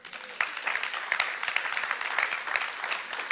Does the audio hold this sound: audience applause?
yes